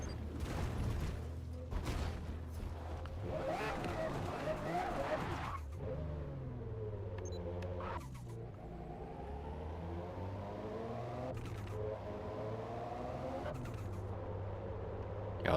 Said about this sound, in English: Y'all hear the turbos?